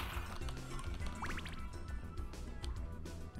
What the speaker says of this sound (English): Just throw fucking holy water at them. They melt like nothing.